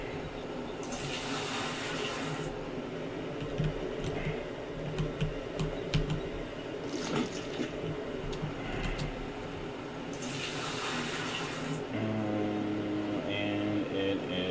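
Water sloshing and rushing through a gold wash plant while washing pay dirt in the video game Gold Rush, steady running-water noise with louder bursts, mechanical ticks and a low hum near the end.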